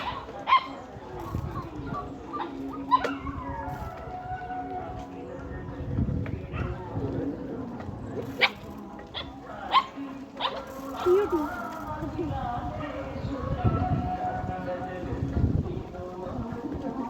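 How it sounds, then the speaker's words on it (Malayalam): Several dogs bark in short, repeated bursts along a village street, heard while cycling past, with some loud and near and others further off, mixed with a voice talking over them. "എത്രയാ നായി നോക്ക്"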